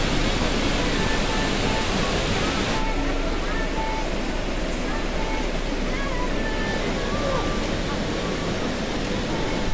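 A man-made waterfall at Dodeoksan park in Gwangmyeong, beside the Y-shaped suspension bridge, gives off a steady, dense roar of falling water that stays loud and unbroken throughout.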